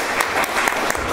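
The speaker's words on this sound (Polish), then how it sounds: "Wielkie brawa, szanowni." Audience applause at a Polish literary evening welcoming a poet: dense, steady clapping from a room full of people, close and fairly loud, filling the whole short moment without pause.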